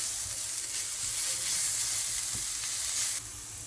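Carrots and garlic sauté lightly in a hot pan, giving a steady, dense sizzle with soft hissing that holds even throughout. No one speaks.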